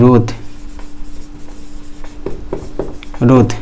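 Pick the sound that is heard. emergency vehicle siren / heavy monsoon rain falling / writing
writing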